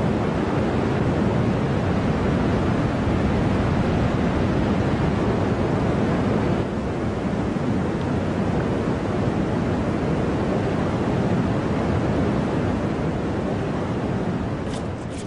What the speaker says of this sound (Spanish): Los ríos que nacen en los grandes nevados de la cordillera de los Andes descienden furiosos hacia la costa del Pacífico, esculpiendo el paisaje como el río Santa